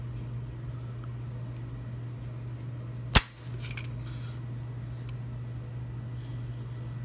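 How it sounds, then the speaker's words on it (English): A single sharp click as an AR trigger breaks while being pulled with a Wheeler trigger pull scale, heard once and alone over a quiet room hum. "just gonna put it on the middle trigger here and pull"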